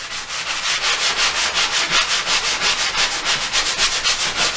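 Rhythmic back-and-forth strokes of a sanding pad rasp across a plaster wall, about four per second, close and steady with no talking.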